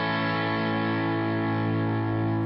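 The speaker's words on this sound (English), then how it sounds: "Now I'm going to click in, and it's going to go through the real MXR Dynacomp." Electric guitar strumming an A barre chord through a real MXR Dynacomp compressor pedal, a single sustained, evenly compressed chord ringing on without voices.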